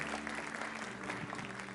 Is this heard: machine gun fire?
no